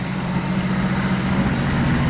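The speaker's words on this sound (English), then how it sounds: "I'm going to go ahead and turn the engine off." A Jeep CJ-7's engine idles steadily, a low continuous rumble with broadband hum, even and close, with no voices.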